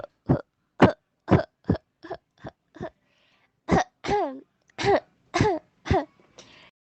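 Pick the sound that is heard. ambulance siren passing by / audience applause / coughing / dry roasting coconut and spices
coughing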